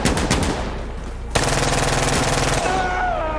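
A Vector submachine gun fires in Insurgency Sandstorm: loud, rapid continuous automatic bursts with a short break in between, dense and close-sounding with no talk.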